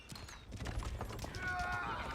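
Cavalry hooves clattering in Age of Empires IV as horse archers ride amid battle, a busy, steady clip-clop layered with other game noise under faint commentary.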